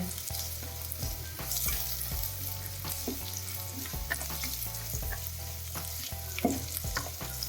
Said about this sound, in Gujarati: આ બધાને આપણે બે મિનિટ સાતળવાનું છે આપણી ડુંગળી છે એ ગુલાબી ના થઈ જાય ત્યાં સુધી